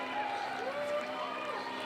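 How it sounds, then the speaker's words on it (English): A crowd cheers at a mountain bike slopestyle semi-final at FISE World Edmonton 2016: a steady, fairly distant wash of voices with whistles that rise and fall throughout. "Little cheering for the crowd."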